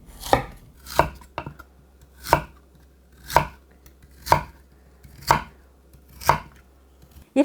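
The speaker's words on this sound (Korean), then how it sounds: "껍질을 까서 약간 두툼하게 썰으세요" Peeled lotus root being cut into thick slices on a cutting board for Korean braised short ribs (galbi-jjim), with eight crisp, close knife strikes landing at a steady pace of about one per second and no talking.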